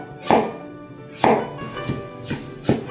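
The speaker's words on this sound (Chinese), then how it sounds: "再把它切成丝" A knife strikes a cutting board while a peeled carrot is first sliced and then cut into shreds. Four or five sharp, evenly spaced chops come from close by, each with a short woody thud, and no one speaks.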